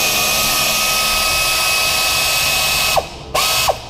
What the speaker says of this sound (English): I'm going to remove the 4 screws that hold the throttle body assembly